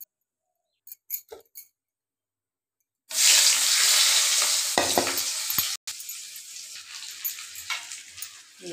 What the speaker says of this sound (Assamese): শুকান মাছ একদম ফ্ৰাই হৈ গ'ল কৰকৰা